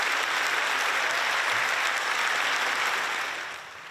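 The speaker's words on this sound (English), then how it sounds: "Sounds like positive applause" Dense, steady applause fills an Italian parliamentary chamber, a broad wash of many hands clapping that stays loud before thinning out near the end.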